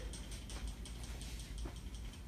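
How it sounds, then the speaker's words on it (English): Spray can being shaken, a quick run of rattling clicks from the mixing ball, fairly faint and even, with no talking. "Once again, shake the can."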